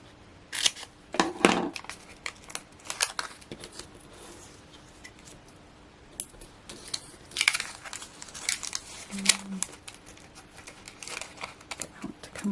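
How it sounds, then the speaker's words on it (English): Scissors cutting a sheet of paper in half for a card-making craft project, with a few crisp snips and rustles of paper spread among quiet pauses and handling noises. "I need to just cut that in half."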